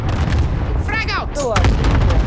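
A frag grenade going off in Call of Duty: Modern Warfare Warzone, a heavy blast amid ongoing combat noise with sharp whistling tones, loud and close, with a voice calling out during it.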